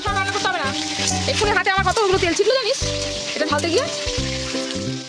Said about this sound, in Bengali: নুন আর হলুদ দিয়ে লাল লাল করে আলুটাকে ভেজে নেবো